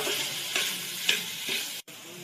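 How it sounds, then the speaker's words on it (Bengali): Chicken with masala and orange food colour sautéing in a pan for Mughlai paratha, a steady loud sizzle with a few scraping stirs, briefly cutting out near the end. "ভালো করে মশলার সঙ্গে চিকেনটা কষা কষা করে নেব।"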